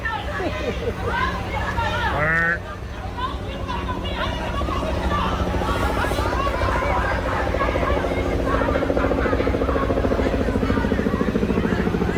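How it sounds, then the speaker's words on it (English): A helicopter approaches with a steady throbbing rotor drone that builds gradually louder, while a crowd of people talk and murmur underneath. "Here comes the chopper."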